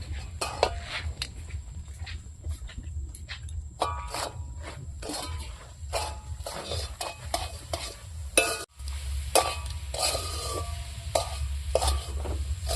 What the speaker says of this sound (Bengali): বন্ধুরা নারকেলের ইয়েটা ভাজা হয়ে গেছে